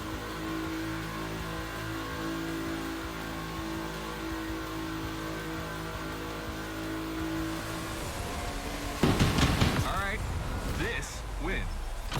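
Porsche 911 engine in The Crew Motorfest during a Gymkhana Grid Masters event, a steady drone building to a sharp, louder rev burst near the end with tire noise, a voice talking over it throughout.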